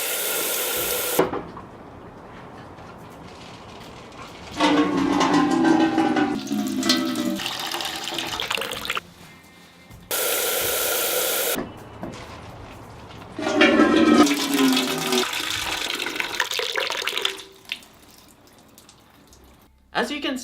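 Water rushes and trickles as it drains through holes in plastic bottles dipped into a water bucket, in two separate bursts of splashing and pouring that each fade to drips, with a few quiet gaps between.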